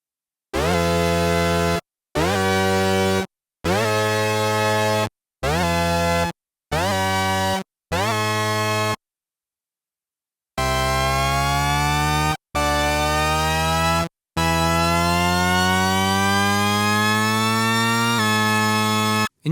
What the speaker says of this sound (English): Pressing the button a second time allows us to modulate the frequency of oscillator 2 via the filter envelope